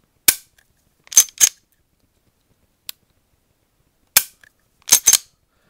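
Steyr M9-A1 polymer pistol dry-firing with its trigger resetting: sharp, crisp mechanical clicks, close and fairly loud, coming singly and in quick pairs with quiet gaps between them.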